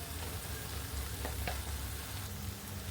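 Masala with soya chunks sizzling in a pan for veg kari dosai, a steady close crackle and fizz of frying that runs the whole time with no voices.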